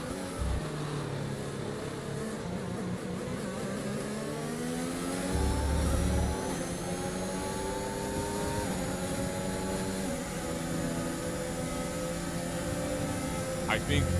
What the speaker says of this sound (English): If you listen to his car, he's not as smooth on the accelerator as he was during his qualifying run.